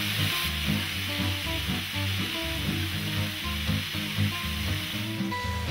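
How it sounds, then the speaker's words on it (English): Tomatoes and capsicum cooking in a pan for a big breakfast dish, a constant sizzle beneath a steady background tone, sustained without voices. "Now turn the heat back up and add the tomatoes and cook for another 5 minutes."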